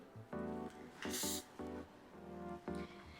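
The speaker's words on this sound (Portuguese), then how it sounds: "aplico meu spray." Hair spray gives a brief, bright hiss as it is misted over a ponytail being styled, with soft music playing steadily underneath.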